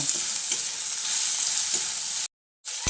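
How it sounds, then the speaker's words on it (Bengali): Chopped medium onion frying in hot oil with browned garlic, a steady close broadband sizzle with faint stirring knocks, cut off by a brief silence before the sizzle resumes. "এবার এই পেঁয়াজটাকে দিয়েও একটু হালকা করে ভেজে নেব"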